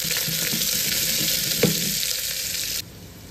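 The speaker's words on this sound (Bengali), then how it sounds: "এবার আমি এতে পেঁয়াজ দিয়ে দেবো। পেঁয়াজটাকে একটু ভাজা ভাজা করব।" Onions sizzle loudly in a pan of hot oil seasoned with a clove and two bay leaves, a steady close frying hiss with a brief stir clatter, then the hiss drops away near the end.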